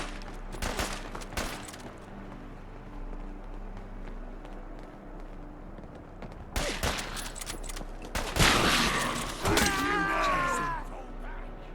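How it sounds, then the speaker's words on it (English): Gunfire in Fallout London: scattered sharp shots early, then a dense burst of rapid fire, with running footsteps and a pained groan amid the chaos. "Open fire on this crater!"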